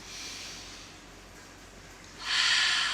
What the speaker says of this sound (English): Last big breath, you guys